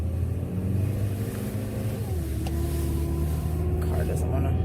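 A cold car engine on a 44-degree morning labors and rumbles unevenly, its pitch sagging and shifting as it strains, with a voice speaking faintly underneath.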